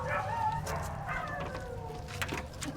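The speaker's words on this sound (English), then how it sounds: "If listening to dogs barking is peaceful to you, then I can tell you that this is a very peaceful walk" Several dogs barking and whimpering during an outdoor walk, the yips and barks scattered and moderately distant over steady low background noise, with no talking.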